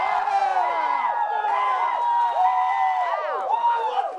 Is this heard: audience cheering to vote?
yes